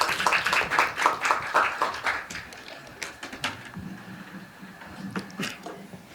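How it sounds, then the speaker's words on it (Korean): Scattered audience clapping at a Korean leadership school information session, lively at first and then thinning into sparse claps before fading out. "큰 박수로 모시겠습니다"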